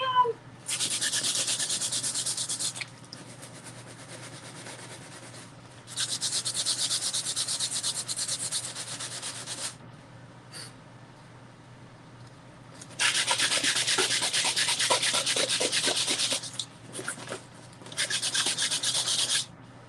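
Sandpaper rubs across a painting in four separate bursts of steady scratchy sanding, each lasting a few seconds, close and fairly quiet with brief pauses between strokes.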